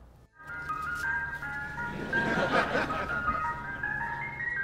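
A tinkling ice cream truck melody plays, with a vehicle engine rumbling underneath as it passes nearby.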